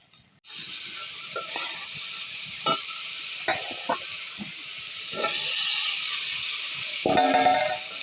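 Boiled potatoes sauté in oil in a pan, a soft steady sizzle broken by repeated scraping and tapping of a spatula, with a louder crackle near the end.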